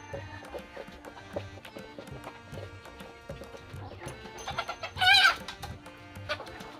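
Native backyard chickens eating ginger on a farm give soft clucks and pecking taps throughout, with a louder burst of squawking clucks near the end.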